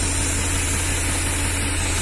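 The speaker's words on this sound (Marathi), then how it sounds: "ट्रॅक्टरच्या इंजिनलाही काही लोड नाही, तुम्ही बघू शकता ट्रॅक्टर दूर पण मारत नाही" A New Holland Heritage Edition tractor engine idles steadily without load while driving a compressor for a milking machine, a continuous low throbbing hum at close range with no talk.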